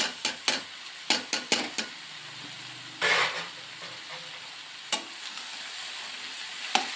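Chopped brinjal frying in a pan, with a soft steady sizzle under a run of sharp clinks and scrapes from stirring, then a louder burst of hiss and a few more scattered knocks.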